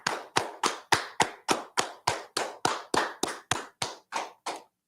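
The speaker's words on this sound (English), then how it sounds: "let's clap it up." A small audience claps in about fifteen evenly spaced, crisp bursts, roughly three per second, close by and fairly quiet, slowing and fading slightly toward the end with no talk over it.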